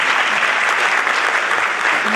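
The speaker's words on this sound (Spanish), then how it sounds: "un aplauso para mí" Steady applause from a seminar audience on cannabis cultivation basics, a dense even wash of many hands clapping throughout, loud and close with no pauses.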